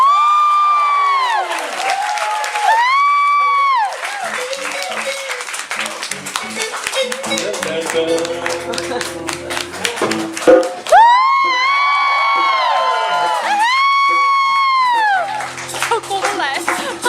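A crowd at a band concert cheers with loud, rising whoops and shouts alongside clapping, swelling in several waves, with voices of adults and children mixed in.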